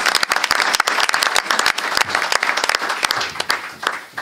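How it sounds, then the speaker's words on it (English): An audience at a meeting applauds students, a loud burst of close, crisp individual claps packed together, thinning slightly toward the end. "please also give our students a big round of applause."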